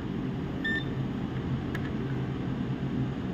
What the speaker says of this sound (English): Still beep is there.